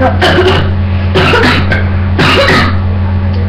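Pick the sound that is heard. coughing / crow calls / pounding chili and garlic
coughing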